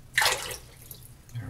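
Water is poured out of a shaving mug in a single short splash, fairly close, followed by a few faint trickles.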